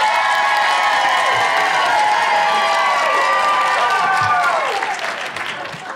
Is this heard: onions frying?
no